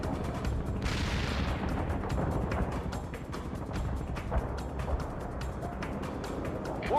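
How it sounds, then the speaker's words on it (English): Rapid gunfire and explosions rumble through a battle in the video game World in Conflict, dense overlapping bursts and booms at a steady moderate level, with a brief spoken word near the start. "They're firing at us."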